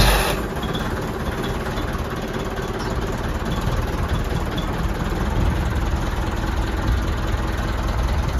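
A farm vehicle's engine, started with a starter button and clutch in neutral, idles steadily and close by, a constant low rumble with no talk over it.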